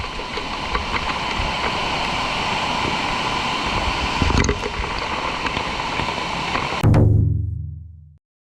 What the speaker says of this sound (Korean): 평화로운 분위기를 즐기고 싶었는데 너무 센 폭포가 있었어요.